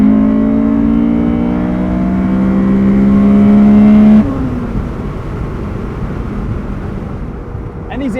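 A Honda S2000 AP1 engine revs loudly toward 9,000 RPM, its pitch climbing steadily for about four seconds before dropping abruptly into a lower, steadier drone, with someone talking over it.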